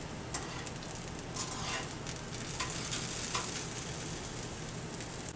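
Copper River sockeye salmon fillets cook slowly in a pan with a soft, even sizzle and scattered small pops and crackles, close but fairly quiet, with no talking.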